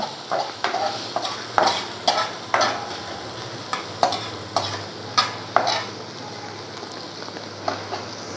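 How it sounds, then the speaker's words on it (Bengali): Softened fish being stirred in a pan just after the lid comes off, a steady frying sizzle punctuated by regular scraping strokes of the spoon, close and moderately loud. "এরপরে আমি ঢাকনাটা খুলে নেড়ে চেড়ে নেব।"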